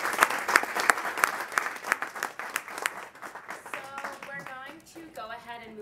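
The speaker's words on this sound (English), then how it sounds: "can we get one more round of applause for all three of our panelists?" Audience at a Muslim mental health conference parenting panel clapping for three panelists, a dense round of applause that tapers off as a voice begins speaking over the fading claps.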